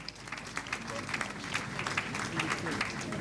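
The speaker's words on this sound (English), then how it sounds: "Please, can we give her a round of applause?" Audience at a panel discussion applauding a guest, a steady spread of many hands clapping at moderate level, filling the room continuously from start to finish.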